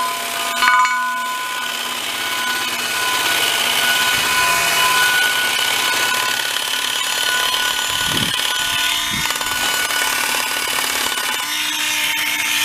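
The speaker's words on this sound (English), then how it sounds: "Get our cup brush out to get in here because this isn't big enough." A homemade 12-volt rotary tool fitted with a wire cup brush scrubs a steel wheel rim, a steady loud grinding whine with scratchy abrasive texture running continuously, close up, with no talk.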